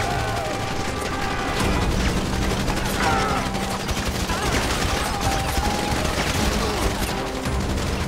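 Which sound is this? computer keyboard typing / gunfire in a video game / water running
gunfire in a video game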